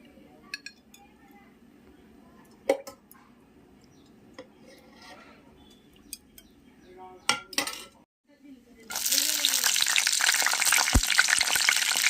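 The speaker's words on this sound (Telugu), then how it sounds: "ఇది మంచిగా వేగాలి, అప్పుడే పచ్చడి బాగుంటుంది." Tomatoes for chutney hit a hot pan after scattered clinks of utensils and dishes, breaking into a loud, dense, continuous frying hiss that fills the last few seconds.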